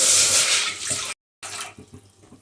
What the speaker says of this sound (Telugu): దానిలో ఒక కప్పు రవ్వకు గాను 2 కప్పుల వాటర్ పోసుకొని మరగనివ్వాలి.